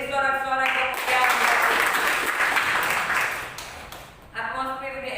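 An Indonesian church congregation claps and cheers in a sustained, dense wash of applause that swells, then fades, with a voice speaking before and after.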